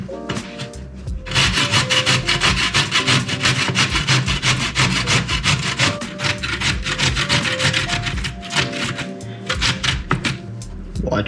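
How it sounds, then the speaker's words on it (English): Potato being grated by hand for hash browns, rapid rhythmic scraping strokes, close and loud, continuing steadily for about ten seconds after a brief pause at the start. "What we have to do, grate the potato."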